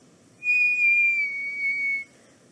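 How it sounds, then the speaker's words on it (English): A single steady whistle in the Wild Wood rises clear and high, holds its tone for about a second and a half, and then stops in near silence. "Then the whistling began. Very faint it was"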